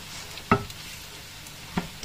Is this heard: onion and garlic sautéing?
yes